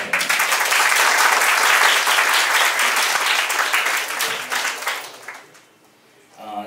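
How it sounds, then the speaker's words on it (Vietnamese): Audience applause for sponsors at a hip-hop talk event in Vietnam, loud continuous clapping from a crowd that gradually tapers off and ends in near quiet. "Mọi người dành cho họ một tràng vỗ tay."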